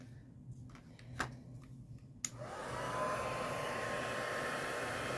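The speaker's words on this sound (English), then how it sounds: "But once my heat tool warms up, it'll emboss just fine." An embossing heat tool switches on with a click and blows hot air in a steady, close whooshing hiss. A few faint taps come before it starts, and the hiss then holds level to the end.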